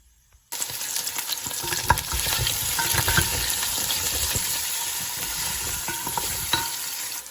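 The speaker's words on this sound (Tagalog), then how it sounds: "first I'm going to fry potato on it" Potatoes fry in chicken fat and a little oil in a pan, starting with a sudden loud sizzle that holds steady, with occasional stirring scrapes and pops.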